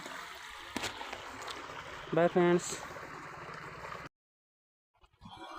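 Water rushing heavily along a stream, a steady broad wash that carries on under a man's brief speech, then cuts off abruptly into near silence.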